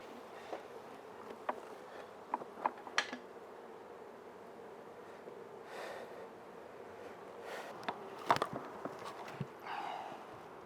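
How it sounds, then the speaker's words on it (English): Angry bees from a colony being removed from a porch hum softly and continuously, with occasional louder buzzes passing close and a few scattered clicks and taps. "So all of the bees are going to continue swarming for a while"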